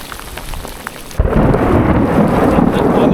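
A close thunderstorm during a Murray cod fishing trip: a sudden loud thunder crack breaks in at about a second, then heavy rain roars steadily and loudly on the surface with rumbling underneath, no voices.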